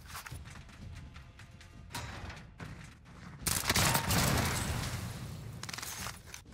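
Rapid bursts of Godzilla STG assault rifle fire in a video game, sharp repeated shots in clusters with a long dense volley near the middle, loud and close.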